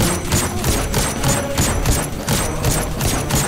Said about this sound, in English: Wow, I can just shoot infinitely with this bad boy.